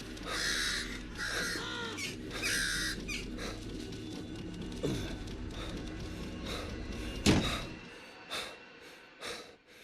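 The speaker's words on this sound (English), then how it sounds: "Oh no, crows." Crows attack in the horror video game Once Alive, their harsh cawing and snorting bursts repeating over a dense game soundscape, with sharper sudden hits near the end.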